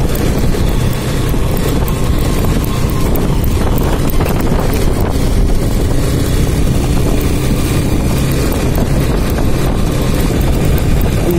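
A motorcycle engine drones steadily at close range while riding through green countryside toward a small farm, mixed with rushing wind noise and no clear pauses.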